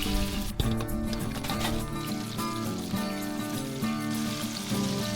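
Oil sizzles and crackles steadily as battered fish fillets fry, a continuous close-up bubbling hiss with a few brief clinks.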